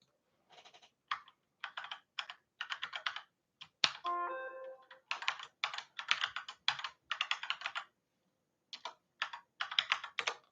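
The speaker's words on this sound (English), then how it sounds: "Here, I'll just type it in here real quick." Rapid bursts of computer keyboard typing, close and crisp, come in uneven runs separated by short pauses, with one brief electronic tone partway through.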